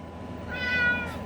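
A single short cat meow, close and clear, against a steady background hum, heard right after the cat is let out of a Homerunpet Drybo Plus pet dryer.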